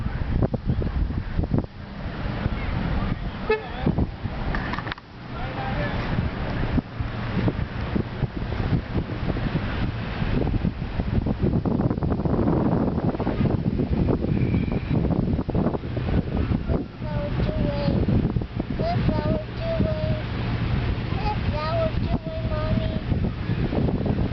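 Strong wind blows outdoors, gusting as a steady roar and buffeting the microphone throughout, with faint voices and occasional rustling mixed in.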